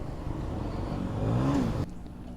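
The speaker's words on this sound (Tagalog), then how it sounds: "Ang ingay ng tambutso niya" A 2023 Kawasaki Ninja 1000SX exhaust revs close by in a loud, rough burst that rises in pitch, then cuts off abruptly after about two seconds.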